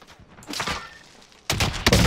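Sniper rifle fire in the Warzone video game: sharp bursts of gunfire, one around the middle of the stretch and a louder cluster of close shots near the end, without talk.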